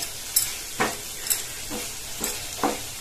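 Paneer, vegetables and grated cheese are stirred in a hot pan, with a spoon scraping in several distinct strokes over a soft, steady sizzle, close and fairly clear with no talking.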